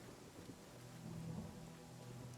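A video game storm plays alone: constant heavy rain with low rolling thunder rumbling beneath it, steady and fairly close throughout.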